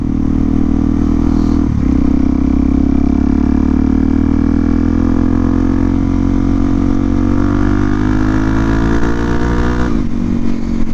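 A motorcycle engine runs steadily in cold winter air on the first ride of the year, a loud, close, continuous mid-pitched drone that rises gently in pitch as it revs slightly, with brief dips and no talking.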